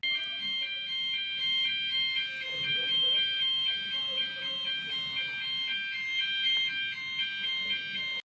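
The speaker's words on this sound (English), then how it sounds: "a fire alarm went off at literally 12 a.m. in the rain and dark and cold" Fire alarm blaring at midnight in cold, dark rain, a steady piercing electronic tone that holds throughout with little change, with faint background murmurs and shuffling beneath it.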